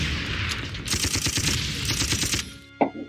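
Artillery barrage in the video game Panzer Corps, a dense rumble of overlapping booms and crackling shots that roll on for over two seconds, followed by a single sharp thud near the end.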